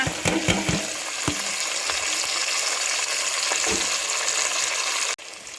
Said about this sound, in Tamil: இந்த வெங்காயத்தை இது நல்லா நல்லா ப்ரௌன் கலரில் சேஞ்ச் ஆகும் அது வரைக்கும் இதை வந்து வெங்காயத்தை நல்லா வதக்கணும்